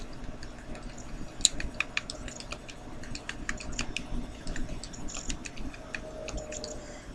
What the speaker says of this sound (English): No one ever said nothing about typing stuff.